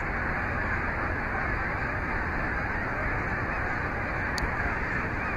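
A flock of birds calls, likely geese, a dense, continuous chorus of honking and squawking at steady loudness with no one speaking.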